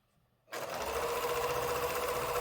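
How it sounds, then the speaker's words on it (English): A sewing machine with a walking foot runs steadily through several layers of quilt fabric and batting, attaching a binding with a quarter-inch seam; the close, continuous whir starts abruptly after a brief quiet moment and holds without pause. "I'm stitching this on with a 1/4 inch seam"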